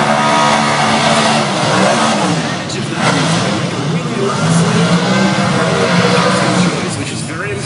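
Top fuel drag racing car engine at a Willowbank Winternats meet, a loud continuous supercharged roar filling the whole stretch at a distance, with a crowd murmur and announcer-style talk underneath.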